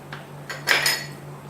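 Dry fruits and condensed milk being stirred together in a pan for a Hyderabadi dessert, with a few soft clinks of a spoon against the metal and a short louder scraping swirl midway, close and alone.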